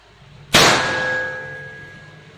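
A Bocap Predator PCP air rifle fires a single sharp, loud shot with a metallic clang. The ring decays slowly over the next two seconds.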